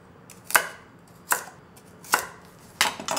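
Four sharp knife chops through vegetables on a cutting board, cutting crosswise for L.A.-style Korean pickles, evenly spaced about a second apart, close and crisp with no talking.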